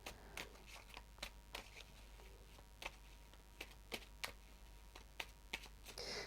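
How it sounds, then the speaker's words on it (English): Little Mermaid Sea Melodies oracle cards are shuffled by hand close by, making soft, irregular papery taps and flicks that repeat quietly over a faint low hum. "I'm going to start shuffling the little mermaid sea melodies cards now"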